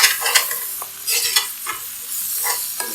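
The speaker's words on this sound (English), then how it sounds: "We're just going to keep moving this around, making sure that the garlic doesn't burn to the bottom of the pan" Garlic and spinach sizzle in a hot pan while being stirred and pushed around, scraping and clattering in irregular bursts over a steady frying hiss, close and fairly loud, with no talking.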